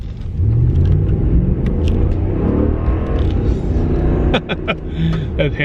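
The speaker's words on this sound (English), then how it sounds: "That Hemi rumble." A Hemi V8 truck engine rumbles deep and loud at close range, a steady heavy idle that holds throughout, with a few sharp clicks toward the end.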